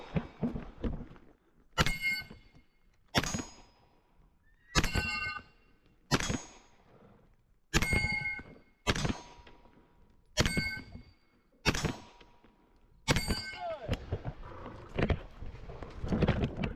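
Bullets striking a steel spinner target at a shooting match, a series of about a dozen sharp gunshot cracks, each followed by a ringing metallic clang, spaced a second or so apart, loud and near.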